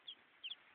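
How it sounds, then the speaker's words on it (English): Chickens being coaxed into a box, with two or three faint, brief, high clucks spaced apart over a quiet background. "Come on, birds. Come in the box."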